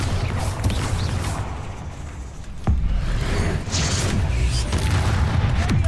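A Bombarda spell explosion in Hogwarts Legacy: a dense wash of game noise broken by one sudden, heavy boom partway through, followed by crackling, rumbling debris sounds.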